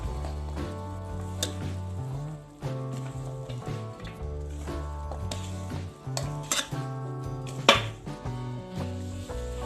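Spoon clinking and scraping against a bowl while mango pickle masala of mustard powder, turmeric and garlic paste is mixed, repeated close metallic taps and scrapes over a steady tonal hum.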